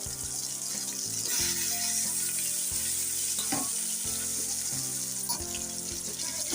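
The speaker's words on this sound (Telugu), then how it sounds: "కలిపిన తర్వాత ముందుగా కట్ చేసి ఆలుగడ్డలు వేసుకోవాలి." Cut potatoes, with turmeric, sizzle and crackle steadily in hot oil in a pan, a constant close frying hiss with occasional stirring clinks and scrapes, no voices.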